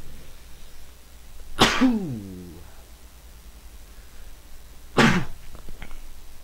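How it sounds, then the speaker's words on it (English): A loud close-up sneeze, then after a pause a second sharp sneeze-like burst, in an otherwise quiet room. "I have to sneeze real quick, so let me do that"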